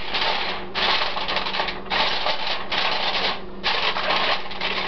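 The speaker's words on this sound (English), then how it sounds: "I just cover this whole thing with aluminum foil" Aluminum foil is pulled and pressed over a roasted garlic crab dish, giving close, steady crinkling and rustling in several bursts with brief dips between, no voices.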